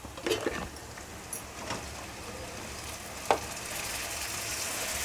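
Onions with coriander powder and tomatoes frying in a pan for a farm chicken fry, a fairly quiet steady sizzle with a few spoon stirs and one sharp tap.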